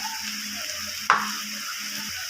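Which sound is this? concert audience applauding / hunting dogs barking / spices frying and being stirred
spices frying and being stirred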